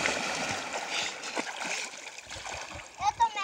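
Water splashes and churns continuously as a child swims and dives in a reservoir pond, with a voice talking over the splashing and a sharper splash near the end.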